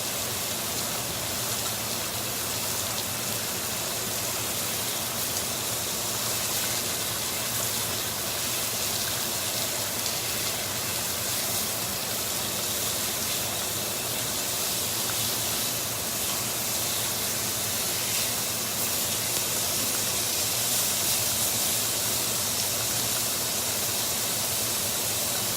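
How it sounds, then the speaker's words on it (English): A hot grill pan sizzles on the stove as food grills for grill marks, a steady dense hiss that stays loud and unbroken for about twenty-five seconds with no distinct pops and no talk. "this pan is popping all over the place"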